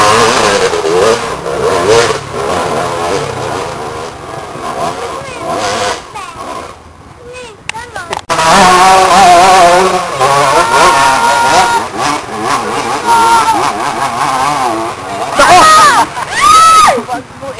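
A motorcycle engine revs up and down loudly and close by at a trail race site, dipping briefly before roaring again, with people talking over it.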